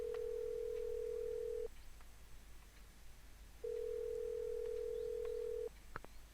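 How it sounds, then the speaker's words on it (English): Telephone tones in a CSI crime-scene video game as a phone redials, two long steady beeps separated by a quiet gap, faint and alone over low background hiss. "There's a redial button. Maybe we should find out who the last person was on the other end."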